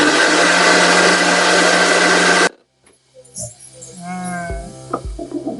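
A kitchen mixer grinder whirs loudly and steadily as it grinds bitter gourd with tamarind, jaggery, salt and water into a chutney paste, then cuts off abruptly, leaving faint clatter and light handling noises.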